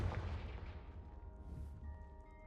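In Hogwarts Legacy, the Confringo fire curse lands with a deep booming blast that rolls and fades, followed by lingering tonal game sounds as the rumble dies away; no one speaks.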